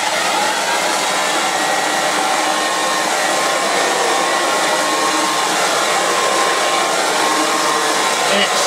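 Refurbished Vactric Junior R45 vacuum cleaner with sleeve-bearing motor and brushes runs steadily, a loud continuous whirring hum with a high whine, close by and alone throughout.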